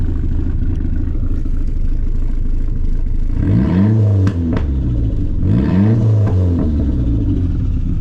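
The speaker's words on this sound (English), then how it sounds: "That's some little baby revs." An SRT4 car engine, just started for the first time and at operating temperature, blips through two short revs over a steady idle, rising and falling close by with no talking.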